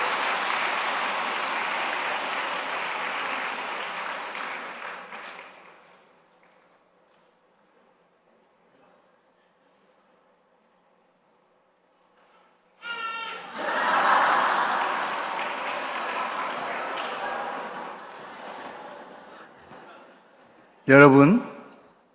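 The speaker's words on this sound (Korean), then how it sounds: "박수 한번 쳐주세요." A church congregation at a Sunday service bursts into applause, a dense crowd of clapping that fades to near silence, then a second loud round of applause, ending with a brief sharp burst.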